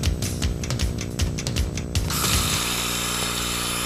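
Metal being welded gives a loud, harsh buzzing with irregular crackling bursts, then a steadier, brighter hiss in the second half, close by and with no talking.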